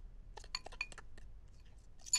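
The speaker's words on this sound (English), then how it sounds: "1/2 cup of sifted icing sugar, 1 tablespoon of milk, and just with a fork, stir it together" A fork briefly clinks against a glass bowl while stirring a thick glaze of icing sugar and milk, a quick run of light taps that then fades to quiet.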